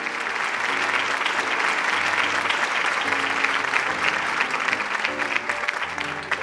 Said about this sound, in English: please give a virtual round of applause for all of our 2020 Founders and Zenith Award recipients